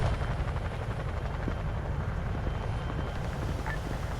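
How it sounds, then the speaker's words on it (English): Helicopter in the Arma 3 video game, its rotor and engine a loud steady low roar and whine that fills the whole stretch without letting up. "get in the helicopter"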